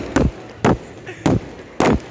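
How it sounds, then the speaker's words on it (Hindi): Firecrackers set off by people during a Lohri festival celebration in Pathankot, four evenly spaced sharp heavy bangs, loud and fairly close, with quiet background between them. "तो लोग पटाखे चलाना शुरू कर दिए"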